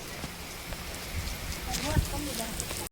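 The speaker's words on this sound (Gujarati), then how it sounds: "આ બધા વરસાદ ચાલુ થઈ ગયો છે" Steady rain falling outdoors during a walking pilgrimage from Uncha Kotda to Mogal Dham in Bhaguda, a dense, continuous patter with brief low thumps and faint voices murmuring nearby.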